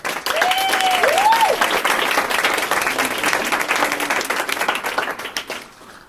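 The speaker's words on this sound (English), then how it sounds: "a big round of applause to Angela Ma, Maggie Rolt, Emma Hayes" Loud, sustained applause from an audience at a poetry recitation event fills the space, a few whistles cutting through near the start, then fading out at the end.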